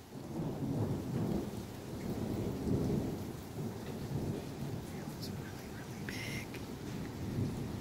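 Giant quarter-sized hail pounds down in a late-night storm, a dense, steady clatter and roar under thunder-like rumbles throughout, with brief brighter impacts near the end.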